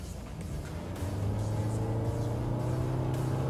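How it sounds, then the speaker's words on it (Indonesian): A Toyota Vellfire's engine accelerating from 20 to 60, a low rumbling drone that swells in loudness and holds steady, heard from a moderate distance with no talk. "suara mesinnya akhirnya masuk seperti yang barusan kita dengar tadi"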